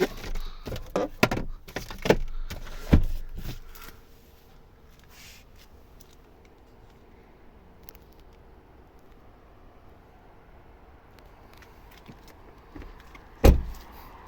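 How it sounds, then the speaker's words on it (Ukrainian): Doors of a 2014 Volvo V70 2.0 D4 estate are shut several times in quick succession, giving sharp, solid thuds, followed by a long quiet cabin hush and one final firm slam. "як чітко закриваються двері, відчули."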